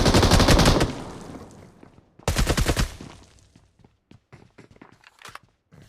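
Automatic gunfire sprayed in the BGMI battle royale game, with two loud, rapid bursts of shots up close followed by quieter scattered clicks and footstep-like taps, with no talking.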